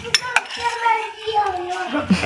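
Metal utensils clink and scrape against a pot while mixing saag, a few sharp close clinks at the start and end, with voices talking between them.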